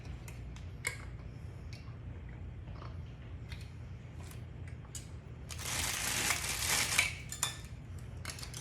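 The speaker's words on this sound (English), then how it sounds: "We're gonna put our new lids on." Metal lids and rings clink against glass canning jars of crisp pickled okra with garlic. Scattered light ticks come first, then a denser burst of close metallic rattling and scraping in the middle of the clip.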